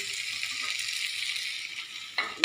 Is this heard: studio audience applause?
no